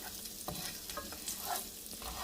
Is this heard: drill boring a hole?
no